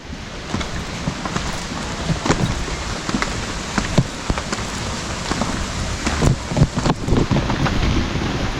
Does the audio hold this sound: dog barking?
no